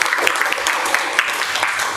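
A classroom group claps for a student's correct answer, a brief, moderately loud burst of scattered applause.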